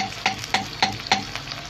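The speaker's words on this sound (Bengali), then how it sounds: "তারপর পেঁয়াজটা দেওয়া হবে। পেঁয়াজটা দিয়ে" Onion frying in oil in a pan while being stirred, with four evenly spaced scraping strokes over a steady close sizzle.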